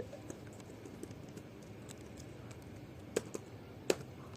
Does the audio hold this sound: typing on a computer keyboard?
yes